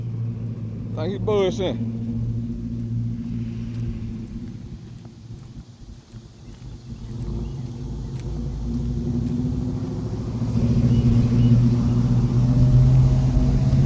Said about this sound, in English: Hear that supercharger whining too.